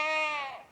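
A goat on a homestead gives a single clear bleat, close and loud, a wavering cry that fades away after under a second.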